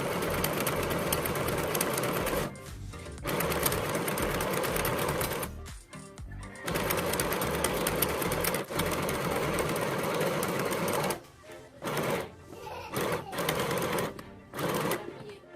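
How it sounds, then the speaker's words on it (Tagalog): A sewing machine zigzag stitches the bottom edge of a thrifted bustier top, running in a steady close whirring drone with short stops and restarts, the later bursts choppier, alone without talk. "Ngayon, ang bottom part naman ng ating top ang kailangang i-zigzag stitch."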